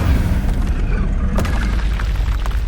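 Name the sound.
Incendio fire spell being cast in Hogwarts Legacy video game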